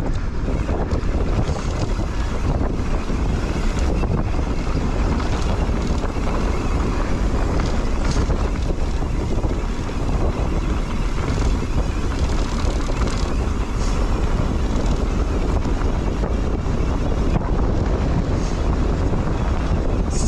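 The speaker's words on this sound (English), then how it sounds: "Super windy." Strong wind roars continuously across the microphone, a heavy low rumble with gusty buffeting that never lets up, no voices heard.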